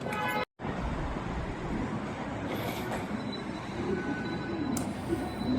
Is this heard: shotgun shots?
no